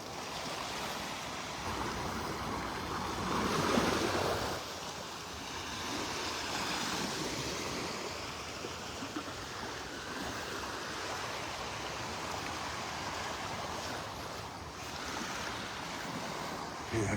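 Small ocean waves breaking on a beach in North Naples, Florida, a continuous surf wash with gentle swells in loudness and some wind buffeting the microphone.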